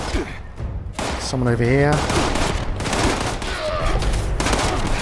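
Sustained enemy gunfire in the video game Fallout 76, loud rapid volleys running throughout, with a person talking over the shooting.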